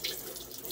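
Running bleach water splashes briefly while a milking machine lid is rinsed during cleaning of an electric goat, cow or sheep milking pump, a short, soft steady stream.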